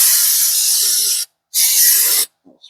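Brake cleaner sprayed onto the front brake hub of a 2023 Subaru Crosstrek with the rotor removed: two loud, close aerosol hisses, the first about 1.2 seconds long and the second about 0.7 seconds, separated by a short pause.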